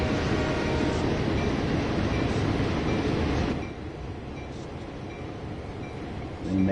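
A train in Train Sim World 2 on the Oakville Subdivision rumbles loud and steady, then drops to a softer, even running drone partway through, with faint rail noise throughout.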